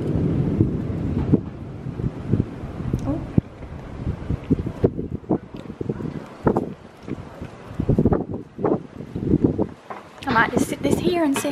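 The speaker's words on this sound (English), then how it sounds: "except it's very windy so I can't leave the door open." Gusty wind buffets the microphone in low rumbling bursts, loud and close, with a brief hiss of rustling near the end.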